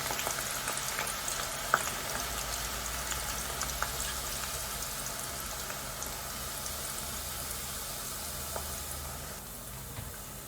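Steady, soft sizzling of grated onions frying gently in a pan on low heat, a continuous low crackle with occasional small pops, no talking.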